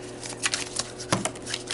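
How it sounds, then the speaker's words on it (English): A deck of oracle cards being shuffled by hand, quick riffling flutters in short bursts, close and fairly loud, with no talking. "my shuffling"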